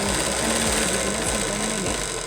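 Steady whirring hum of a sewing machine stitching a blouse at a slow pace, running continuously with a faint repeating rhythmic pulse, close by with no talking.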